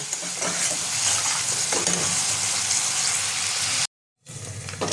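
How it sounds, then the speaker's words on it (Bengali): Bengali-style spice paste for bowal fish tok jhal frying in oil, a loud dense sizzle with constant stirring scrapes, close up, cutting out briefly near the end before resuming. "মশলাটা আমি খুব ভালো করে কষিয়ে নেব।"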